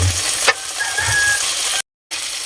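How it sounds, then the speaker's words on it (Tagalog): Onion and tomato stirred in a hot pan with oysters, sizzling steadily up close, with one sharp scrape of the spoon early on and a short dropout near the end. "Tapos sibuyas. Kamatis. Haluhaluin."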